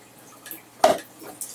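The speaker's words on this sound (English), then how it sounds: "Let the water flow everywhere." A single splashy drip of water falls during RODI filter maintenance, preceded by faint trickles and followed by a softer drop, close and alone with no talk.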